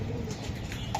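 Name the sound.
racing pigeon cooing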